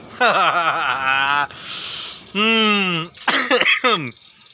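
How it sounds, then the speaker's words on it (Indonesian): A person coughs and clears their throat several times in harsh, voiced bursts, close and loud, with brief pauses between fits. "Aku tuh batuk-batuk sekarang ini"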